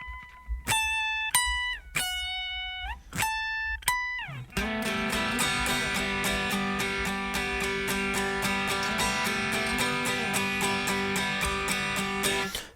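A transition from a 2018 recording: after plucked single notes with pauses, the full band enters loud and sustained, with distorted electric guitars, ringing open strings and layered acoustic guitars strumming steadily.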